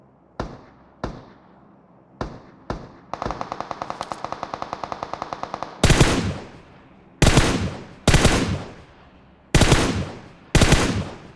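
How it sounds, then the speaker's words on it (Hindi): Gunfire in the mobile game BGMI: a few single sharp shots, then a rapid automatic burst of about two seconds, followed by five loud, booming, evenly spaced reports that ring out and decay. "सामने की तरफ अभी भी फायरिंग हो रही है"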